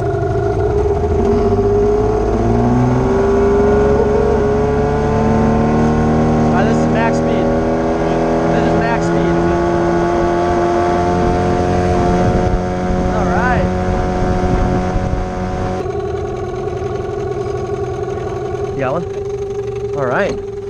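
Motorboat engine running on a Canadian lake, a loud steady drone with shifting pitch as it revs and settles, close throughout, with people talking over it.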